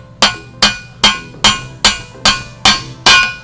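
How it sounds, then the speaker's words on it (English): On a Gen 3 Suzuki Hayabusa single-sided swingarm, a bearing being driven in gives eight evenly spaced, sharp metallic hammer-like clanks, loud and close, with a steady rhythm. "that clanking sound, that means that it's bottomed out"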